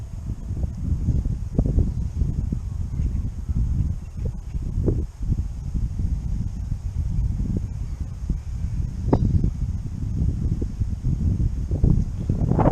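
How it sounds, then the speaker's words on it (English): Strong wind buffets the microphone in continuous low, rumbling gusts while fishing for redfin, with no voices. "As you can probably tell by the audio, it's very windy."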